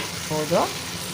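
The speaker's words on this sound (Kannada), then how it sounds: "ಇವಾಗ ಇದು ಸ್ವಲ್ಪ ಎಲ್ಲ ಎಣ್ಣೆಯಲ್ಲಿ ಫ್ರೈ ಆಗಿದೆ" Onion and tomato fry in oil for a quick tomato rasam, heard as a brief, moderately loud sizzle with a short scraping stir in the middle.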